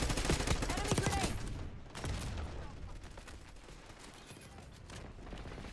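Dense, chaotic gunfire from many weapons in a Call of Duty: Black Ops multiplayer match rattles continuously, loudest in the first two seconds and then thinning into scattered shots, heard quietly at low level.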